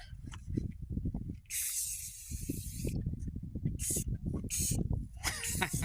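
Short bursts of spray paint hiss from an aerosol can being sprayed onto a car, the longest lasting over a second, then a few shorter blasts, while voices talk and move around underneath.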